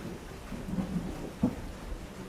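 Layered rain for a Jurassic Park storm scene, with a dense, steady wash of falling rain and a low rumbling undertone, plus a soft thump midway.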